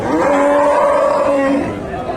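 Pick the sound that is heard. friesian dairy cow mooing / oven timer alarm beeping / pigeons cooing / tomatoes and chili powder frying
friesian dairy cow mooing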